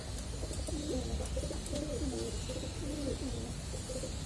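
Antique pigeons of an unusual, short and broad breed coo in repeated low, throaty phrases over a steady background hum, with a few faint ticks.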